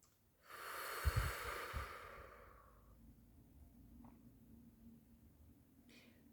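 During a guided meditation, one slow deep breath draws in through the nose with a close, airy rush, then a softer, longer exhale flows out through the mouth into quiet.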